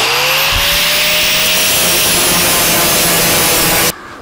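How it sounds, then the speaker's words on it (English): A power grinder works along a traced line on a steel car floor pedestal for a 1949 Chevrolet gasser, giving a loud continuous whining grind with a sliding pitch that stops abruptly near the end. "We'll grind to the line."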